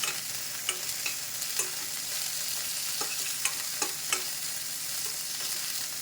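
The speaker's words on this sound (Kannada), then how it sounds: "ಏನಕ್ಕೆ ಚಟಾಪಟ ಅಂತಿದೆ ಅಂದರೆ, ನಾನು ಸ್ವಲ್ಪ ತೊಳೆದು ಹಿಡ್ಕೊಂಡಿದ್ದೀನಲ್ವ, ಆಯಿಲಲ್ಲಿ ಹಾಕಿದರೆ ಸ್ವಲ್ಪ ಆ ಥರ ಆಗ್ತಾಯಿದೆ" Washed coriander dropped into hot oil for an Andhra-style chutney, giving a dense, steady sizzle with scattered sharp pops and crackles, close up and with no talk.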